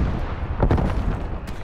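Artillery fire in a video game: a dense, rumbling barrage of booming blasts with a sharp crack near the end, loud and continuous throughout.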